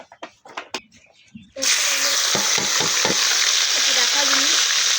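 Mustard oil hits a hot pan at about 1.5 seconds and bursts into a loud, steady sizzle that continues to the end, with a few scrapes and clinks. A voice speaks briefly before the pour.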